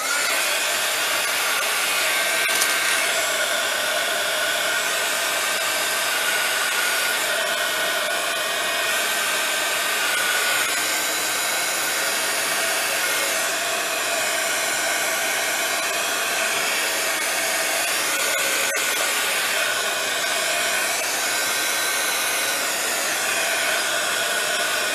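A hair dryer runs steadily and loudly throughout, drying a mixed media collage with its continuous airy whir, no talking over it.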